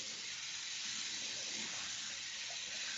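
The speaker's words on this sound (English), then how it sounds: "I'm just going to grab a glass of water from the bathroom, which is next to me." A bathroom tap runs steadily as a glass is filled with water, a constant bright hiss of flowing water close by with no talking.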